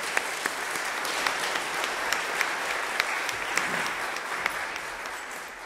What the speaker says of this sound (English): if we could give Gary a round of applause for having the courage to share